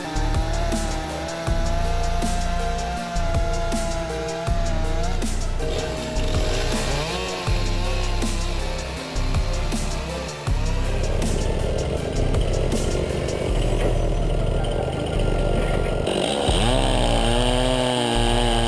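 A Stihl MS661 chainsaw and a WP845 wood-processing machine cut timber, with a loud, close engine roar that surges and drops in a repeating rhythm as each cut is made.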